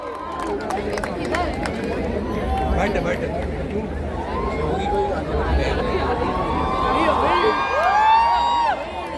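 A concert crowd in Mumbai cheers and claps as a performer comes on stage, a dense roar of voices, whoops and shouts with some clapping, and a voice rising over the noise near the end.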